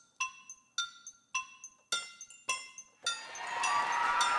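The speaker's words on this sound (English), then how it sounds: "These sounds are just a mug pitched down" Looped hits on a mug, pitched down, form a regular rhythm of six resonant ringing clinks, each decaying before the next, then giving way to a denser, noisy swell that builds toward the end.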